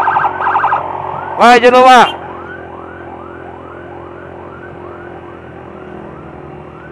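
Ambulance siren during a patient escort, wailing in long repeated sweeps after a brief burst of loud voices, steady and fairly near through the rest of the clip.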